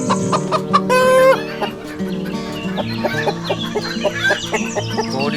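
Close country chickens cluck and squawk in quick, busy bursts over a steady background hum, with a short sharp call near the start.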